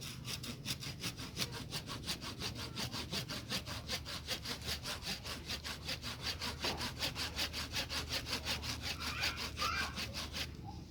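Steady back-and-forth strokes of a hand saw biting through waru wood on a bonsai, rhythmic and close, continuing evenly for the whole stretch with no talking.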